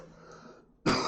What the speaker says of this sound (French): M'arrête pas de tousser, ça me gratte là.